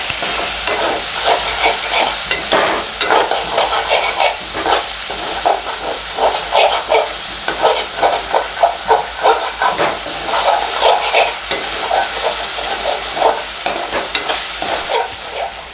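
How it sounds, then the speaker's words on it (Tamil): Onions and tomato paste sauté in a pan for prawn gravy, a loud continuous sizzle and hiss broken by repeated scraping stirs of a spoon, close and alone. "எல்லாத்தையும் சேர்த்து வதக்கிக்கோங்க."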